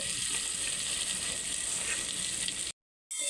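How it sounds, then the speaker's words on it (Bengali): Jackfruit seeds and bitter gourd stirred in a hot frying pan give a steady, close sizzle with faint scraping, running unbroken before a brief cut to silence near the end. "এবার কাঁঠালের দানাটা আর উচ্ছেটা দিয়ে আবার একটু ভালো করে নেড়ে নেব।"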